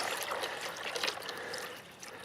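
Water trickles and pours steadily into a pot up to its notches, a soft continuous splashing stream, close and fairly quiet with no talk.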